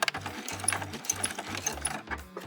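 A sewing machine stitches fabric in short rhythmic bursts close by, its motor whirring and needle clattering with brief pauses between runs, while the stitching is taken slowly through thick layers of material.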